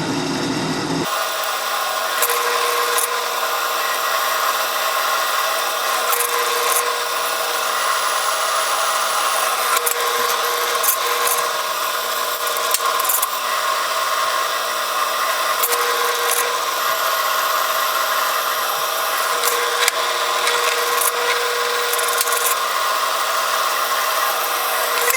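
Drill boring holes with a 1/4 inch bit, probably through forged iron stock for a blacksmith's trammel hook, a steady continuous whir lasting throughout with small shifts in pitch and pressure and no talking.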